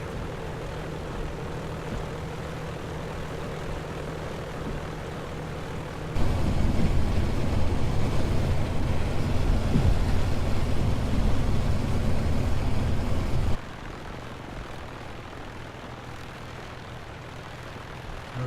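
An aircraft engine in the Prepar3D flight simulator drones steadily, then surges to a loud full-power roar for takeoff for about seven seconds before dropping back to a quieter hum.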